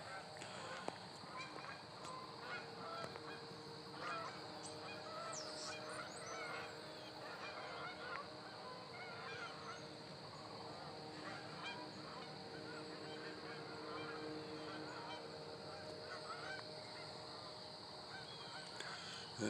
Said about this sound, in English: Honkers everywhere.